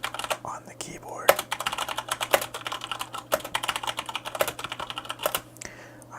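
Rapid, continuous clicking of keys on a Corsair K70 RGB MK2 mechanical keyboard with Cherry MX Brown switches, close and fairly clear, with irregular bursts of typing and a faint steady hum underneath.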